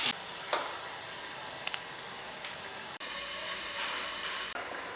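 Chicken pieces fry in a hot pan, a steady loud sizzle with occasional scrapes and clicks of a spoon stirring, close up and continuous with brief dips.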